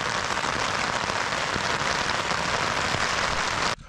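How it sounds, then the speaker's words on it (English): Rain patters steadily on camping gear on a hill in England, a dense, even hiss close by that runs without a break and then stops abruptly at the end. "The rain's calmed down now, but it's going to come back pretty soon."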